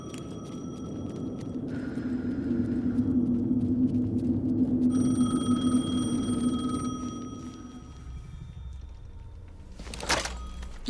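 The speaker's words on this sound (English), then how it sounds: "The phone again." Telephone ringing in Alan Wake 2: steady electronic ring tones repeat from mid-distance over a low droning ambient rumble, with a brief thump near the end.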